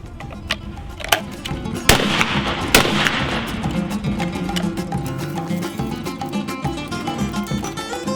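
A 20 gauge shotgun loaded with a Fiocchi steel-hull shell fires with sharp cracks, the loudest pair about a second apart, amid fainter pops and steady outdoor noise.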